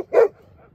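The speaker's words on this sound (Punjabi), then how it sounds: "ਛੇ ਸੱਤ ਕੁੱਤੇ ਫਿਰ ਰਹੇ ਨੇ" One dog from a roaming pack of six or seven gives a single short, loud bark, followed by faint low rumbling.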